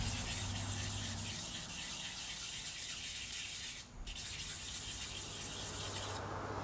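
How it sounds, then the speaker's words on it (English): Fine sandpaper rubs steadily across a surface in hand polishing, a soft continuous close scratching hiss with one brief pause near the middle, quiet and without talk. "you're not really sanding it down per se, you're just polishing it"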